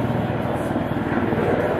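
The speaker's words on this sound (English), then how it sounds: "Helicopter flying overhead here." A helicopter passes overhead during outdoor grilling, giving a steady broadband engine and rotor roar with no speech.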